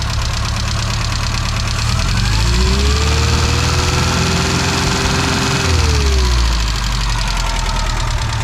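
A Classic Mini engine with a freshly refitted cylinder head idles at a steady, loud, close rumble, warmed up after a quarter hour of running, while a faint rising and falling whine sweeps briefly through the middle.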